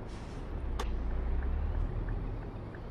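A Scania Streamline truck with a 360 engine in Euro Truck Simulator 2 holds a low, steady diesel drone, fairly quiet, with a few faint light clicks over it.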